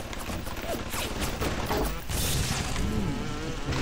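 Gunfire aimed at the player in the video game BioShock, a dense rattling burst of shots with a buzzing, humming texture underneath, loud and continuous.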